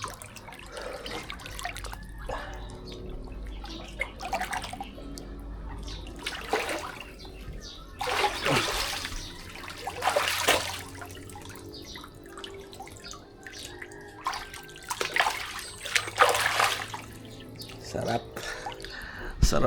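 Cold water from a hand pump splashes in repeated pours and drips during an outdoor bath, with people talking over the intermittent splashing.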